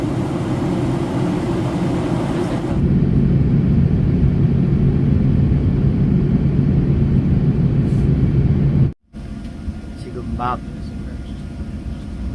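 Inside an airliner just after landing at London Stansted, a loud steady cabin rumble and engine drone fill the first nine seconds. The sound then drops sharply to a quieter hum with faint cabin noises.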